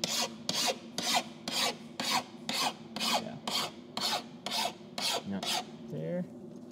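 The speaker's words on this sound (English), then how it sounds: "That's filing." A hand file rasping along an edge in about a dozen steady push strokes, evenly spaced and fairly close, with a faint knock at the end.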